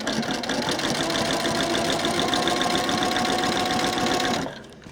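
A sewing machine stitches fabric on a quilt of hexagon pieces, running steadily and close for most of the clip with a fast, even mechanical chatter, then stopping abruptly near the end.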